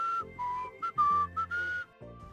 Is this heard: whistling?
yes